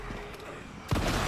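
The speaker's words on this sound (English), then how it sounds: "Fuck the shotguns in this game." A single loud shotgun blast goes off in the zombie video game Resident Evil 9 after a moment of quieter in-game noise.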